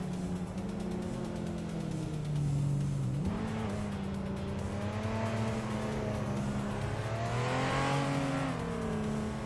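A 1993 Lancia Delta HF Integrale race car engine revs in a racing game, the steady drone rising and falling in pitch with gear changes and a surge toward the end, loud and close, with no speech.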